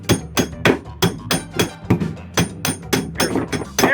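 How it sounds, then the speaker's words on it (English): A hammer strikes a metal tool over and over to drive the drive seal out of a Cabrio washer tub. About a dozen sharp, loud, close knocks land in a quick, uneven rhythm. "knocking that drive seal out with a hammer"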